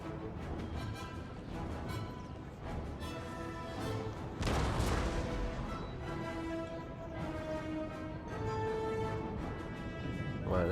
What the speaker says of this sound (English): That unit turned around and started firing back.